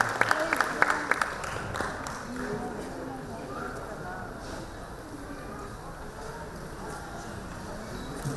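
An audience at a 2025 Teachers' Day award ceremony run by the Karnataka Press Club claps in a dense, sustained wash, partly under a speaking voice.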